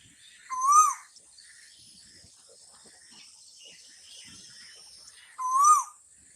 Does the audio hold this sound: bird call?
yes